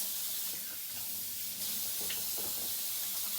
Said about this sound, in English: Make sure you wash your hands for 20 seconds with warm water